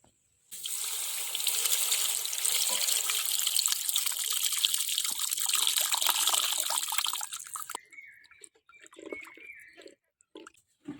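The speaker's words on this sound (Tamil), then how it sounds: "கரைச்சி வச்ச புளியை கொஞ்சம் ஊற்றிக்கலாம்" Tamarind water pours steadily into a rasam pot for several seconds, a continuous splashing stream that stops abruptly, followed by a few quiet clinks.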